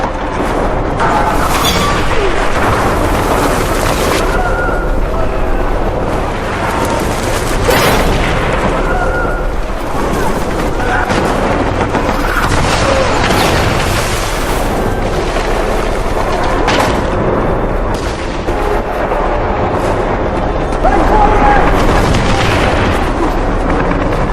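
Artillery shells burst in a Pacific war battle between American and Japanese forces, with loud, repeated booms and blasts over a dense, continuous rumble of combat noise.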